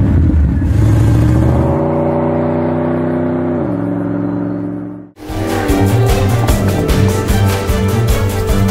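A 2018 Maserati GranCabrio engine while driving: a loud, close mechanical drone that holds, drops in pitch as revs fall, cuts briefly, then returns as a dense rising roar under acceleration, with no talk.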